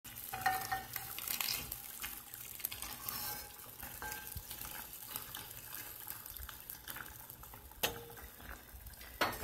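Water poured over merguez sausages in a hot pan sets off a steady hiss and bubbling sizzle with stirring scrapes, loud and continuous throughout.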